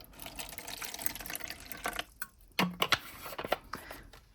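Water is poured into a measuring container during resin coaster making, a soft splashing trickle with scattered drips and clinks, faint and close, without talk.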